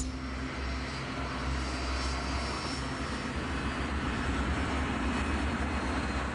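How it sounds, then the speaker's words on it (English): A BEA airliner on Flight 548 climbs out of Heathrow, its engines producing a loud, steady roar with a low rumble and a faint high whine, continuous and unbroken throughout. "As the aircraft climbs out of Heathrow, Key, at the controls"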